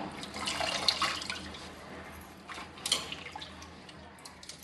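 Fresh fenugreek (methi) leaves are swished and rinsed in water in a home kitchen, giving soft running-water hiss with a few louder splashes and drips.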